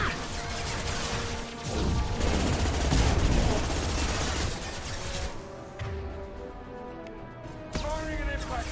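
Rapid gunfire and impact shots in the sci-fi shooter Mass Effect 2, a loud, dense, continuous barrage with crashing hits and game noise throughout, easing slightly toward the end.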